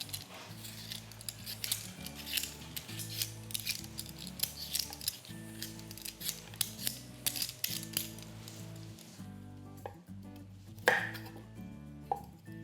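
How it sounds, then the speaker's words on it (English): Kitchen knife trimming the hairy root ends off washed, peeled baby beetroot, a string of crisp snips and cuts at close range over a low, repeating musical backing. "So I'm just chopping the ends off the beets there, the little hairy bits on the end."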